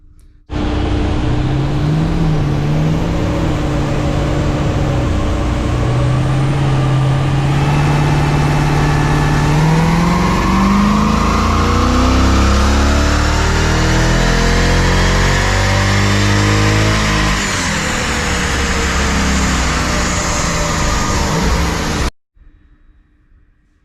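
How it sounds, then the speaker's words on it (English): A Hemi 6.4 V8 car fitted with headers and a high-flow cat exhaust, run loud and close for over twenty seconds, its exhaust note climbing steadily in revs before dropping away and cutting off. "we wanted to fit the headers and the exhaust system first and give the car a run"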